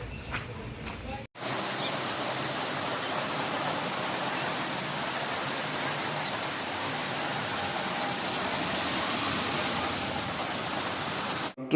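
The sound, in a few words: light rain falling after heavy rain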